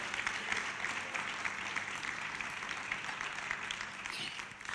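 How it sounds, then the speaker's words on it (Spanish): A church congregation applauds during a sermon, a dense, steady patter of many hands clapping that fills the room at a moderate distance, with no break. "Vamos, aplauda fuerte."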